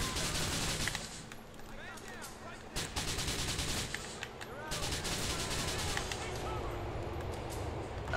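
Police gunfire erupts during a bank robbery in the video game Grand Theft Auto IV, with dense, overlapping bursts of shots and chaotic background noise filling the whole stretch at steady loudness.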